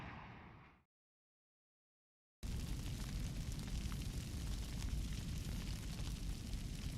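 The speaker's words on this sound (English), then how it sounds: "Sounds of gunshot and explosion outside on the desolated earth." Gunfire and explosions in the Girls Frontline video game: a short burst fades into silence, then a loud, continuous rumbling wash of battle noise with crackling texture fills the rest.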